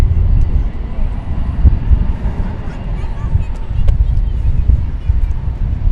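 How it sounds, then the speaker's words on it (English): A Sun Country Boeing 737-800 airliner arriving at DFW Airport from Cancun: a steady, loud low-end engine roar with wind buffeting the microphone, sustained throughout without letup. "So we had a Sun Country coming in from Cancun, flight 510, 737-800"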